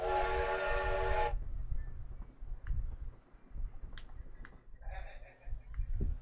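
A train ride in the Roller Coaster Tycoon Classic video game, opening with a loud, steady steam-style whistle blast lasting about a second, followed by quieter rumbling and small clicks and chimes from the game.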